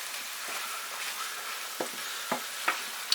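Beef frying in a pan for cottage pie, with a broken-open ingredient stirred in, gives a soft continuous sizzle and a few sharp scraping clicks of the spoon toward the end.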